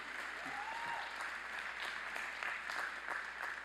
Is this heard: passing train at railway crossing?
no